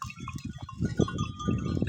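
Sheep bleat repeatedly in short, close calls over a quiet farm background, with several overlapping cries and no one talking.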